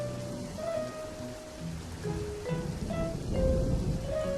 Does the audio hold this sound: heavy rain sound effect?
yes